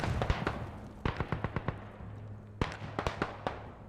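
Rapid gunfire bursts and sharp blasts from the video game Beyond the Wire, clustered shots fired in quick strings with short gaps, loud and close, over a low steady hum.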